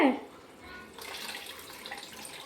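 Water is poured into a tamarind-based fish curry (chepala pulusu) in a quiet kitchen: a brief splash opens the clip, then a soft trickle and faint bubbling follow.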